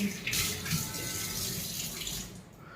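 Tap water runs steadily from a household faucet with a suspected leak, a broad continuous rushing splash that stays fairly loud throughout before easing off at the very end, with no talking over it.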